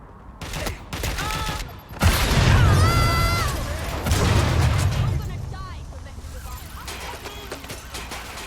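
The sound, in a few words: gunfire in video game Watch Dogs Legion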